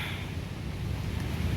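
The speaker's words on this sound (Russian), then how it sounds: "Ветер какой." Strong wind roars steadily over a snowy mountain landscape near the sea during a blizzard, a constant low, rushing gust with buffeting on the microphone and no voices.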